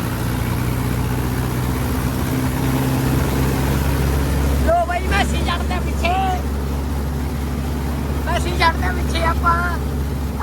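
A tractor engine drones steadily at low speed on a farm road, a constant near rumble with people talking over it in the second half.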